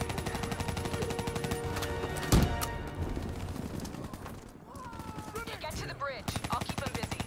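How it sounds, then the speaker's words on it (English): Rapid gunfire bursts in the Call of Duty Black Ops III campaign, with one loud blast near the middle, dense overlapping shots throughout and game voices talking underneath. "Give me some cover fire."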